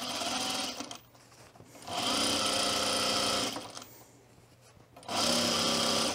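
A sewing machine stitching two layers of fabric for a tool belt at a longer stitch length, running in two steady whirring bursts separated by short pauses, close and clear.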